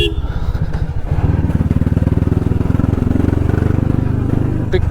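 A motorcycle engine running steadily on a road ride, a loud, close, throbbing drone that rises slightly as the throttle opens and then holds a constant pulsing rhythm.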